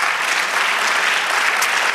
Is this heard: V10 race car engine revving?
no